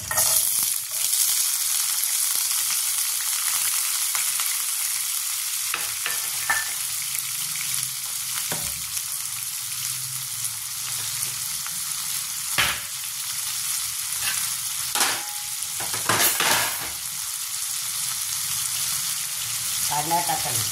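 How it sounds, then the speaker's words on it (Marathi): Onion frying in oil in a nonstick pan, a continuous hissing sizzle with occasional scraping stirs from a wooden spatula, steady and close throughout. "तेल टाकून द्यायचं. कांदा बघा, एवढा कांदा घेतला, स्वच्छ कापून धुवून हा कांदा आपण याच्यामध्ये टाकायचा."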